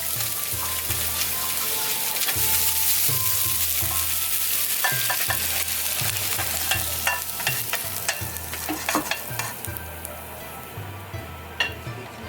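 Pork stir-frying in a little oil sizzles steadily in a pan at close range, with scraping stirs and occasional utensil clinks.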